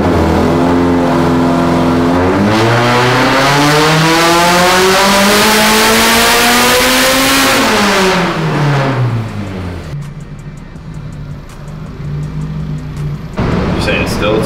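A boosted Honda F22C engine revs hard during tuning, its loud tone sweeping up and then falling back, then settling to a lower running note with a brief burst near the end.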